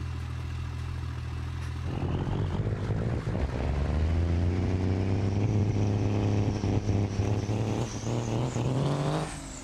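An old van in the BeamNG Drive driving game: a steady, loud engine drone that swells and climbs in pitch as it accelerates, running continuously with no talk.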